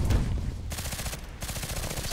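Rapid bursts from an AK-12 assault rifle in Contract Wars, close and sharp, firing in quick rhythmic strings broken by two brief pauses, with no talk over it.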